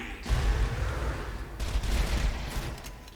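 Grenade blast in Borderlands 2 amid ongoing combat, a heavy low boom followed by rumbling gunfire and crackling bursts, loud and sustained with further sharp pops near the end.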